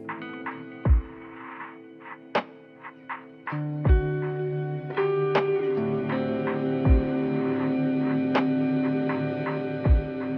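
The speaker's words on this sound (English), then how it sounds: "They describe it on the website as a pad reverb" Guitar notes fed through a long pad reverb pedal, plucked roughly every three seconds, each strike leaving a sustained, layered shimmer that stacks into a continuous, evenly loud ambient wash.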